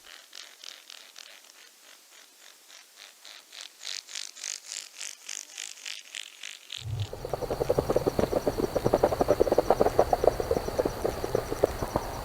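Trumpeter swan wings beating on takeoff, a steady run of rhythmic whooshing pulses that quicken and grow louder, then give way to a dense, churning rush of splashing and broadband noise.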